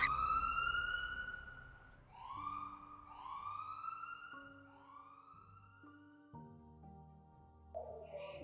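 An ambulance siren wails in repeated rising-and-falling sweeps. It is moderately distant and sustained, with steady tones and background hum underneath.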